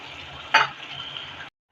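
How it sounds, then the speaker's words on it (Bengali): Warm water poured into a sizzling pan of curry brings a brief loud splash and hiss that settles back into a steady frying sizzle, close and alone, then cuts off. "এবার বন্ধুরা জল দিয়ে দেবো, গরম জলটাই দিয়ে দিচ্ছি।"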